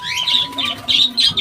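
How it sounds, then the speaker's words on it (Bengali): Caged pigeons, including racing and homer birds with young, give repeated short high chirping calls close by, in bursts of three to four over a second and a half. "তো চলো আমরা খাঁচায় কিছু কবুতর আছে সেগুলো দেখে আসি"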